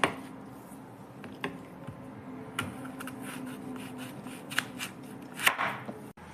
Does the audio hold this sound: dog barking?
no